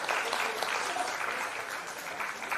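Warm applause from a seminar audience at a women's self-reliance event, a dense patter of clapping held steady for a couple of seconds without voices.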